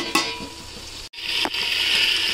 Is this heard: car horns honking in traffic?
no